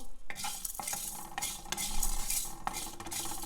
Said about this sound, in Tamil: ஸ்டவ்வை நல்லா மிதமான மிதமான தீயில் வச்சு வறுத்து எடுத்துக்கோங்க